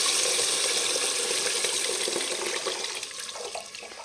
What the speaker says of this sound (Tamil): இப்போ நம்ம வந்து புளி காசு தண்ணி வந்து அதில் ஊற்றிக்கலாம்